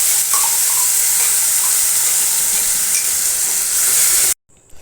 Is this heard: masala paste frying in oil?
yes